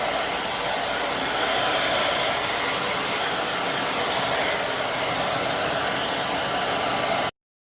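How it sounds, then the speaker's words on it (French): A hair dryer blows steadily on bleached hair, a loud, continuous broadband whoosh close by that runs unbroken for about seven seconds before cutting off abruptly. "je vais utiliser un séchoir. Sécher rapidement."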